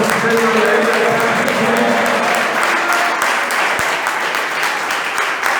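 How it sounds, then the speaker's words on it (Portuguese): A congregation at a church sermon claps in loud, sustained applause mixed with crowd noise and some voices. "Ele pode bater uma salva de palmas."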